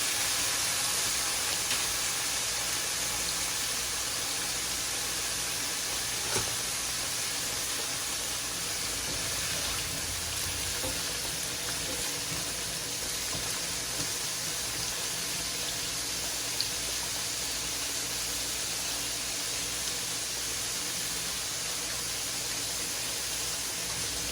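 Salted bitter gourds (karela) frying in a pan for a meat dish, a constant broad hiss of oil, close and even throughout with only a couple of faint clicks.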